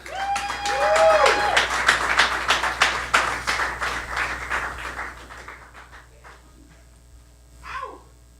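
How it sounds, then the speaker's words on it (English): A comedy club audience applauds a comedian walking onto the stage, with strong clapping and a few whoops at first, thinning to scattered claps and then fading out, followed by a short vocal sound near the end. "I'd like you guys to all give her a round of applause"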